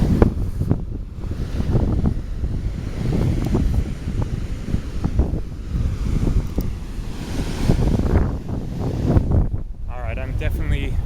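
Surf and gusting wind at Secret Beach on Kauai, Hawaii, a steady broadband wash of waves breaking close by, with wind buffeting the microphone throughout and no clear break.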